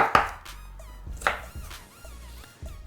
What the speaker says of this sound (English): we're gonna start off by cutting off the tips